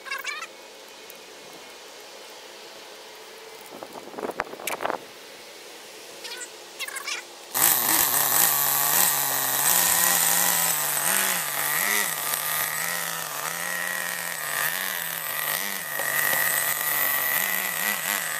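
A Honda Forza scooter engine idles after its first start in 10 months, a loud, close, steady drone with slight wavering after a quieter stretch of small handling noises.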